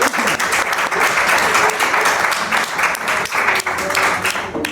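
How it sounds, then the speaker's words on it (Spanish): Sustained audience applause for a group of around twenty poetry reciters at a library literary event, dense steady clapping from a large crowd filling the whole stretch at full loudness. "Un aplauso para todos."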